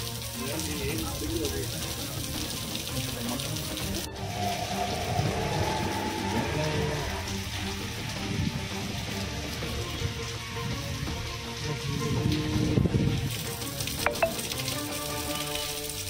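Heavy monsoon rain pours down steadily across a taluk, a dense, continuous hiss of drops hitting the ground that holds at an even level throughout with no let-up.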